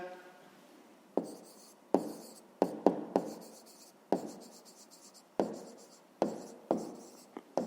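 Pen strokes on paper while working a 5th-grade maths exercise: repeated sharp scratchy bursts, about a dozen short strokes in irregular rhythm, close and fairly quiet, with no talking.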